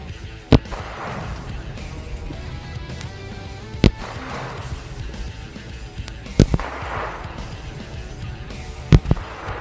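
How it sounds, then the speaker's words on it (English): Four loud rifle gunshots fire a few seconds apart, each a sharp crack over steady outdoor background noise, from a rifle fitted with a UUQ Leopard 1-6x24 LPVO scope. "Wow, this thing is fun to shoot."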